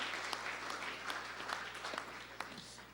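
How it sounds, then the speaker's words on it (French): Audience applause at a business talk, a steady wash of many hands clapping throughout, with occasional sharper individual claps over a low background hum. "Vous pouvez applaudir"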